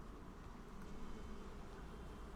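Bees in the video game Valheim hum in a constant, close, soft buzzing drone with no pauses and no other sounds.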